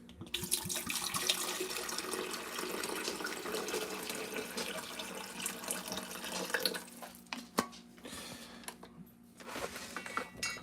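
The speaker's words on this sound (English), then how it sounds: "Put some water in that coffee maker and get some coffee" Tap water runs from a faucet to fill a coffee maker, a steady splashing stream that changes pitch as the pot fills, then cuts to a few faint drips and clinks.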